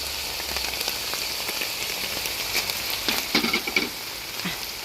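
Pork stir-fries with red chili peppers in a pan in its own rendered fat, giving a steady crackling sizzle with scraping stirs that grow busier toward the end, and no one talking.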